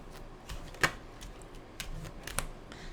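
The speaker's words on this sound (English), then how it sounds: "the Four of Wands tried to jump out, but it was mid-shuffle, and it got shuffled back in" Soft papery rustling with a few sharp snaps as a deck of tarot cards is shuffled nearby, one crisp flick standing out before quieter riffles.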